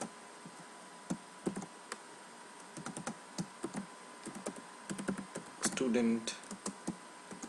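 Keystrokes tapped out on a computer keyboard while an x-axis title is typed, a quick uneven run of light clicks close by with a spoken word or two mixed in.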